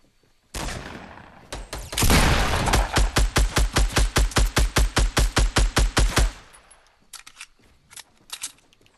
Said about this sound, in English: There's other people shooting us.